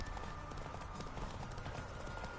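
Horse hooves galloping in The Witcher 3, a fast, steady clip-clop of hoofbeats under a constant dense game soundscape, moderately close and continuous.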